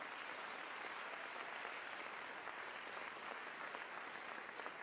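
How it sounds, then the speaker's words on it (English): Sustained applause from a crowd of teachers greeting a school district superintendent's colleague, a dense even wash of clapping that holds steady at moderate loudness throughout with no voices on top. "Let's give Terry a round of applause for the work she's done"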